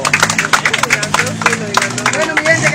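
A street audience claps for a rapper performing outdoors in Venezuela, with fairly loud, steady applause mixed with crowd chatter and voices close by.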